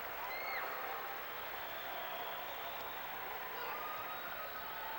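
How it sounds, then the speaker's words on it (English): A crowd at a 1993 high school basketball game between Pottstown and Valley gives a steady, sustained round of applause, a dense wash of clapping and cheering that holds evenly throughout with no distinct voices standing out. "Give Pipkins a good round of applause."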